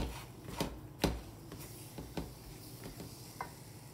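Stirring rava laddu mixture with a little ghee in a pan: a few scattered scraping and tapping strokes at an uneven pace, fairly quiet and close, with no voices.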